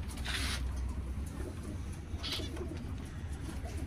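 Pet doves coo softly nearby, low murmuring calls under a steady background rumble, with a couple of brief brighter rustles or flutters.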